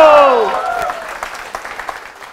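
Audience applause at a Kannada standup comedy show, a burst of clapping that fades gradually over a couple of seconds, following a performer's voice at the very start.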